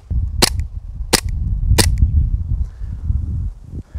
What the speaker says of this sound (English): The Timberwolf has a nice and crisp blowback and the trigger has also a very good pull.